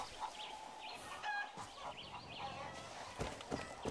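A rooster clucks in the video game Far Cry 6, with short, faint, scattered clucks and squawks over quiet game ambience.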